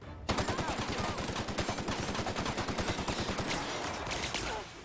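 Rapid automatic gunfire erupts in The Outer Worlds, a dense rhythmic stream of loud shots that runs for several seconds with a faint voice beneath it.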